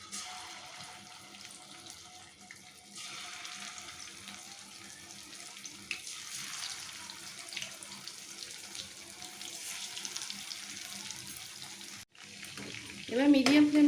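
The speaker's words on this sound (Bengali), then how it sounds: "তেলটা হালকা গরম হয়ে গেছে, এবার একে একে চিকেনগুলো ছেড়ে দেবো।" Chicken pieces fry in hot white oil in a wok, a steady sizzling hiss that holds fairly quiet and constant, briefly cut off near the end before a louder burst.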